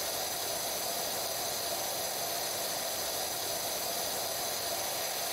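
Power washer spraying water onto a wooden fence, a steady close hiss of spray running without a break and with no voices.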